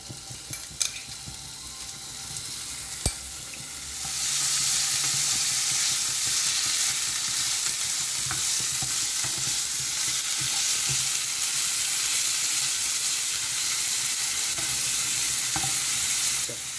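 After a few quiet clinks, marinated chicken hits hot oil in a pan and a loud, steady sizzle takes over, crackling continuously with occasional utensil taps.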